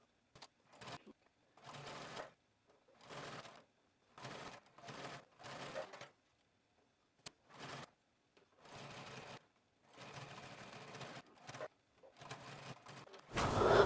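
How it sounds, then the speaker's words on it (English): A home sewing machine runs in short, quiet bursts of rapid whirring stitches while top stitching fabric, stopping and starting repeatedly with brief pauses between runs. "we're going to go to our sewing machine and we're going to top stitch that down"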